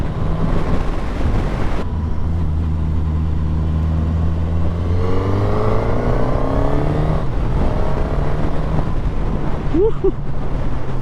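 A 2026 Suzuki GSX-S 1000 motorcycle revs through a quick-shifted gear change, its engine tone climbing after a sharp cut, amid constant wind rush from riding.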